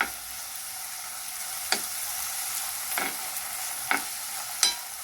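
Chicken Manchurian stirred in a pan with soy sauce and green chilli sauce, giving a quiet, steady frying sizzle broken by four or five sharp spoon scrapes against the pan, with no talking.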